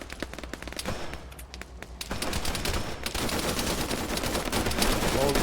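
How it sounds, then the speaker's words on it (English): Sustained automatic rifle fire from an Arma 3 firefight, a rapid stream of sharp close-range bursts that builds into near-continuous gunfire and grows louder after the first few seconds. "So Zor breaches in by himself with that auto rifle."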